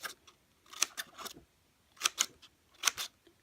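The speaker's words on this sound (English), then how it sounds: "I'm going to take the fringe scissors and I'm actually going to cut all along this edge up to that line" Fringe scissors snip along a paper edge in a quiet room, giving a few short bursts of crisp cuts in quick clusters, close and fairly soft, with no voices.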